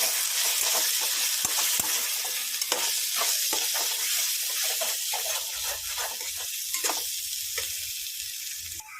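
Fish curry being stirred in a hot pan, a constant sizzle broken by repeated scraping strokes of a spoon against the pan, close and loud, with no one speaking.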